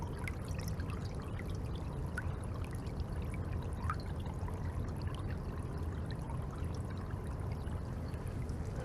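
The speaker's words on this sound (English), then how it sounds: "there's our run from our French drain, and here's our outfall. So take a look at that. Look at all that water." Water pours and splashes continuously from a French drain outfall pipe, a steady rushing flow with no talking.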